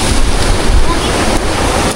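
Roaring rush of water at Tagsoy Falls, a loud broadband wash of the waterfall close by, continuous and dense with wind-buffeted rumble.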